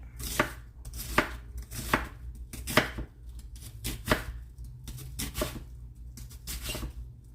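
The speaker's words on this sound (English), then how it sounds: "So I'm just gonna cut an onion." An onion being chopped with a freshly sharpened kitchen knife on a board, sharp, evenly spaced close knocks, roughly one every half second to second, with no talking over them.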